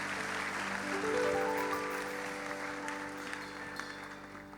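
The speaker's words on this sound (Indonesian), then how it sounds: "Sekali lagi beri tepuk tangan untuk Tuhan kita." A church congregation at a Christmas service applauds steadily, a dense wash of clapping with a faint sustained tone underneath, fairly quiet and continuous throughout.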